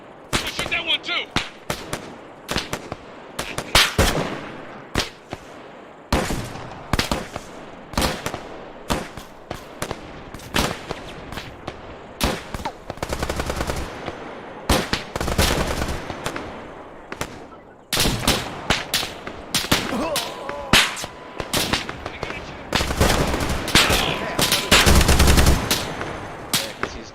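Gunfire in the military game ArmA 3: dense, loud bursts of rapid automatic fire and single shots repeat for about half a minute, with brief gaps, and voices call out between volleys.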